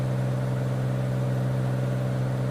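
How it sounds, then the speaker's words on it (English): Simulated Cirrus SR22 piston aircraft engine in X-Plane 12, a steady loud droning hum with strong low harmonics, constant and alone throughout. "it's difficult to hear you with this engine being so loud"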